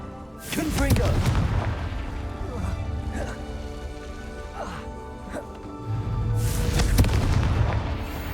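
Fiery Confringo spell blasts in Hogwarts Legacy land as heavy booming explosions over a rumbling game soundtrack. Two loud bursts frame several smaller crackling hits, with a player's voice casting in between.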